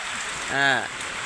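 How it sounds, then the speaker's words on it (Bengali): Steady rain hisses throughout, and a short tonal call rises briefly over the downpour midway. "প্রচণ্ড বৃষ্টি, এই বৃষ্টির জন্যে কারো কোনো ইনকাম নাই"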